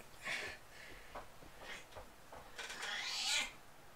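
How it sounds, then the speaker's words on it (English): A house cat meows and yowls in short, faint cries, several bursts spaced across a quiet indoor room, the last one longer and more drawn out. "I sound like I'm torturing my cat"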